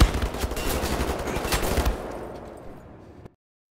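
Rapid automatic gunfire from the video game Wolfenstein: The New Order, a dense loud burst of shots that tapers into a short fading tail before cutting to silence.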